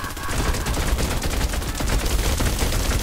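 Guns firing in the video game Fortnite Save the World, a dense, continuous rattle of rapid shots with sharp repeated bursts, loud and close throughout.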